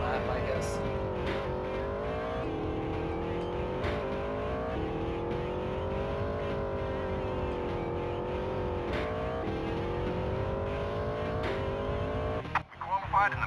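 A race car engine in the NASCAR 2000 video game drones steadily through a qualifying lap, pitch rising and dipping with repeated shifts and corners, loud and continuous throughout, with a brief burst of clatter near the end.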